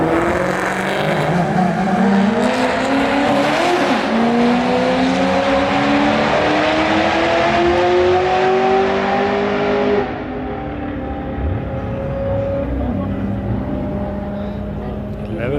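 Audi RS6 Mansory accelerating in a drag race, a loud engine climbing steadily in pitch through the gears before cutting back abruptly, with people's voices faintly mixed in.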